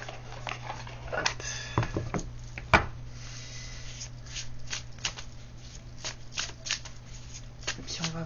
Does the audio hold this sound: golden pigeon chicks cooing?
no